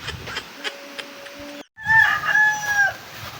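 A rooster crows loudly and close by, one long drawn-out call after a stretch of clucking and quieter fowl noises in a rural yard.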